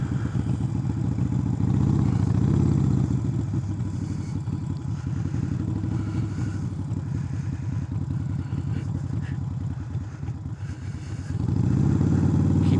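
A motorcycle creeping along in first gear during slow-speed parking lot practice, its engine a steady low throb close by, swelling a little near the start and end.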